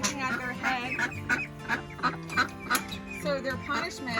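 Pekin ducks quack and honk close by in a busy farmyard chorus of repeated nasal calls, with voices talking over the birds.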